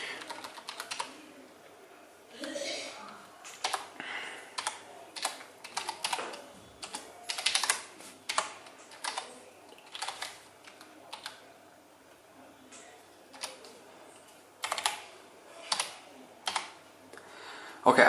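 Someone types on a computer keyboard while editing code on a Raspberry Pi setup, producing bursts of quick, close key clicks separated by short pauses, with no talking.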